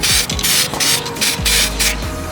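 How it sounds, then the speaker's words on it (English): Custom violet paint hisses from a spray gun onto a go kart frame in several short bursts, each a loud airy whoosh separated by brief pauses, with faint handling noises between. "now is where the magic happens because we're spraying on our custom Mike Lake"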